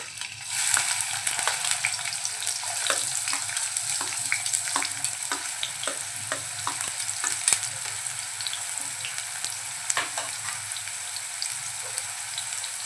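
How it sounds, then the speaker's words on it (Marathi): Finely chopped onion frying in a wok of hot oil, the start of a tempering for kadai masala chicken, a steady close sizzle throughout with scattered crackling pops and occasional spoon stirs. "2 मोठे चमचे तेल गरम करून घेतले, त्यामध्ये आता बारीक चिरलेला कांदा घालून घेऊया"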